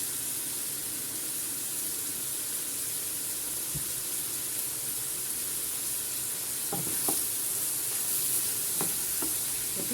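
Hot pepper and pasta sizzle and fry in oil in a pan, a steady close hiss running throughout with a few soft stirring knocks near the end.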